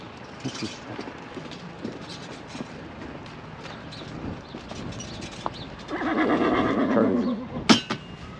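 A horse whinnies in The Forest, a rising, tremulous neigh swelling near the end over soft hoof clops and ambient noise, followed by a sharp knock.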